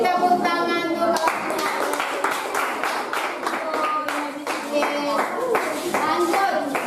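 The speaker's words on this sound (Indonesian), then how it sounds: "beri tepuk tangan dulu" Classroom children clap their hands together in a lively, uneven round of applause that continues steadily throughout, mixed with children's voices calling and chanting over it.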